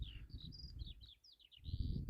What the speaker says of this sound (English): Lots of those birds around. Are they curlews?